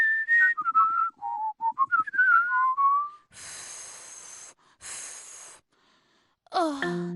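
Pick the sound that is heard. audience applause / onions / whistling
whistling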